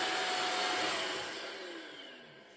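An Ultenic U16 Flex cordless vacuum cleaner runs at full suction, a loud, steady high-pitched whoosh and whine up close that slowly eases down in pitch and volume.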